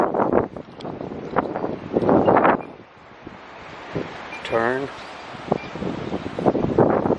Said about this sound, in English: The trees are blowing. It's a windy day.